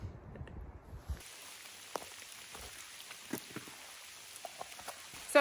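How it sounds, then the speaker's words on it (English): Rain patters steadily on a hiking trail, a continuous soft hiss broken by scattered close drops, after a brief moment of quieter sound at the start. "it started raining the second I said that."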